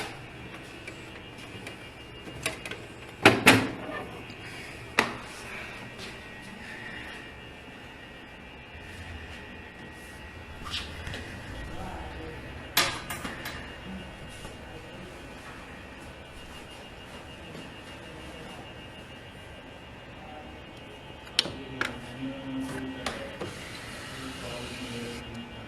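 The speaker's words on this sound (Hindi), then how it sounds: "तो ये जो प्रिंटर है वो इनिशियली सेटअप करेगा।" An Epson EcoTank printer initializes after being powered on, giving off faint mechanical whirring with scattered clicks and ticks over about twenty-five seconds. A few sharper clacks stand out at moments.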